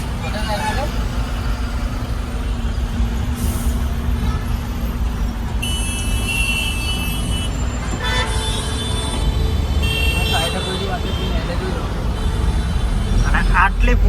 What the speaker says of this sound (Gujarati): આ ટ્રાફિક